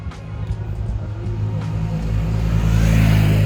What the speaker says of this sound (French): Non, c'est une moto qui arrive.